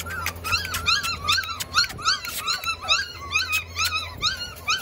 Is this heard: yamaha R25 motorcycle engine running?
no